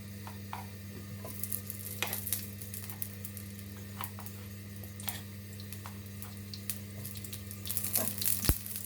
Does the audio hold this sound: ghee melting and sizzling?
yes